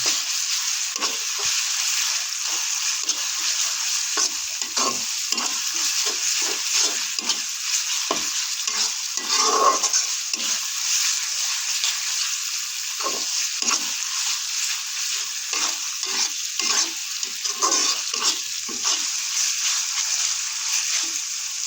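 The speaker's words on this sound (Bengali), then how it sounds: "মশলাটা ভালোভাবে নাড়তে হবে যেন পুড়ে না যায়।" Cumin paste frying in a pan for a potato dish made with beef fat, a loud, dense sizzling hiss that runs without pause while a spoon scrapes and stirs in quick, irregular strokes close by.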